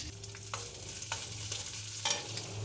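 Two medium onions cut into long strips fry with cumin in a pan for a vegetable pulao, a quiet steady sizzle with a few scattered scrapes and clicks, close and alone.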